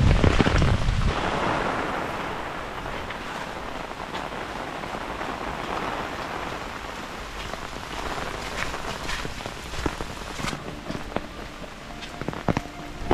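Heavy rain pours on a mountain trail at Bukhansan, a dense, steady patter that is loudest at first and then eases slightly, with scattered sharper drops and possible footsteps and no talking.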